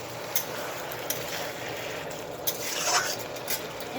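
A spoon scrapes and stirs greens with mustard paste in a pan, soft intermittent clinks and shuffling over a low steady sizzle, close up.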